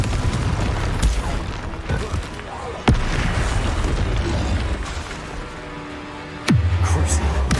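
Booming blasts of the Confringo fire spell in Hogwarts Legacy, several sharp impacts over dense game noise, with a player voice calling out during play.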